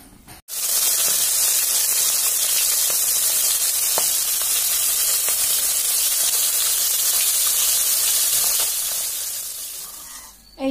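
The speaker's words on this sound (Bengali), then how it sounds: "আমি পুঁটি মাছগুলো ভেজে নেব।" Puti fish frying in hot oil in a wok, a loud, steady, close sizzle with bright hissing that runs unbroken for several seconds, with occasional faint pops and clicks.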